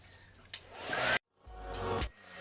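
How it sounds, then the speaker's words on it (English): A hair dryer blows over wet acrylic paint in two close, steady whooshing bursts separated by a short silent gap. "Let's hit it with the hair dryer real quickly."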